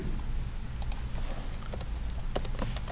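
Someone types code on a computer keyboard, with irregular bursts of sharp, close key clicks and a couple of louder strokes near the end, over a low steady room hum.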